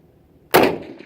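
A MAS 1936 rifle in 7.5x54 fires one shot at a 10-inch steel plate: a single sharp, loud crack after a quiet moment, then a short fading tail. Nobody speaks.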